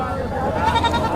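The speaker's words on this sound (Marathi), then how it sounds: "शेळ्या" Goats bleat amid the crowd noise of a busy goat and buck market in Lonand, a wavering cry rising over steady background chatter.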